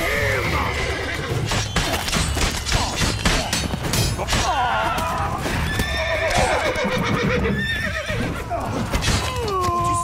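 Horses from The Witcher 3 neigh and whinny repeatedly over steady clip-clopping hooves, loud and close, with occasional crashes mixed into a busy game scene.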